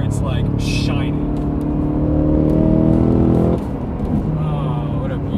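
A Cadillac Blackwing's engine revs hard and climbs in pitch under acceleration for about three and a half seconds, then abruptly lets off to a lower, steadier drone, heard loud and close from inside the car.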